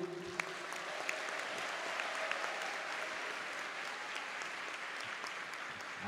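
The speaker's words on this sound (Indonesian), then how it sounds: "mari berikan tepuk tangan yang meriah kepada Ibu Menlu" An audience at the opening ceremony of the Conference on Indonesian Foreign Policy applauds the foreign minister, a steady faint wash of clapping from a sizeable crowd in a hall, continuing evenly without voices.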